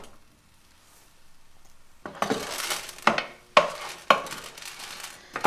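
Ditalini pasta sautéed and stirred in a soup pot for summer minestrone, heard as a run of scraping, clattering spoon strokes against the pot with a soft sizzle underneath, starting after a quiet opening.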